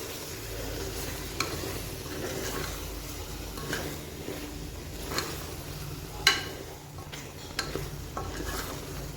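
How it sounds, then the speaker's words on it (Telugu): Mutton liver curry is stirred in a pan with salt, coriander powder and garam masala, giving a steady close scraping and stirring with a low sizzle underneath and occasional sharp clicks of the spoon against the pot. "ఇప్పుడు ఒకసారి అంతా కలుపుకుందాం."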